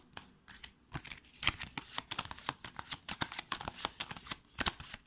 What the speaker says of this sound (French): Je place les cartes menaces aléatoirement.